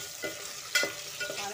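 Spinach (palak) sautés in a pan with a soft frying sizzle and a few quick stirring scrapes in a brief close burst.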